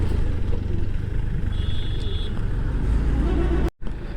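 Car traffic crawls along a mountain road between Srinagar and Sonmarg, engines rumbling steadily at close range with a brief tone and a short cut near the end.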